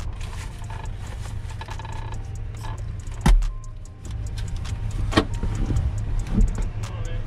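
A Ford truck idling close by with a steady low engine rumble, plus a door thud and small mechanical clicks and rattles over the hum.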